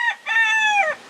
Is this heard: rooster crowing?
yes